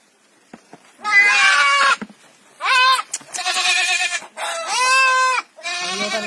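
A goat with newborn kids bleats loudly several times, drawn-out wavering cries in a quiet farm setting, with brief pauses and soft rustling between calls.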